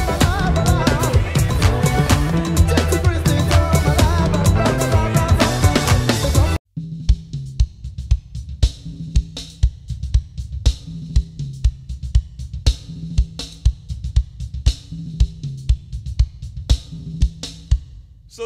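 A simple, steady drum groove on a drum kit plays after a short burst of dense full-band music cuts out, with crisp regular hits repeating loud and close.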